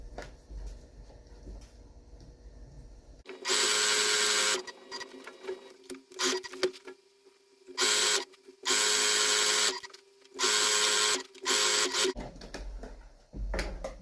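Sewing machine stitching around the edge of sticky non-skid fabric, running in several loud bursts of a few seconds each, separated by short pauses and quieter handling noise.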